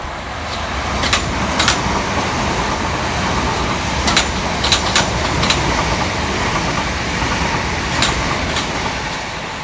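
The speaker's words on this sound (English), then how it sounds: "Next to pass through the station for Southern 6 minutes late is 377 706 and 377 605" Southern Class 377 electric multiple units running through New Cross Gate station make a steady loud rolling roar, with sharp repeated wheel clicks and rail squeals recurring over the wheels passing, close by and without speech.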